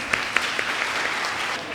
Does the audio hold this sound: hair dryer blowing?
no